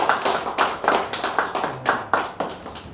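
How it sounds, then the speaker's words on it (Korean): Audience applause at a church lecture gathering, a short burst of close, steady hand clapping with no talking over it. "박수 한번 감사합니다."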